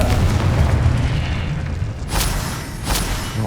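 Loud booming blasts from a Confringo fire spell in the Hogwarts Legacy game, a dense rumbling explosion followed by two sharper bursts around the two- and three-second marks.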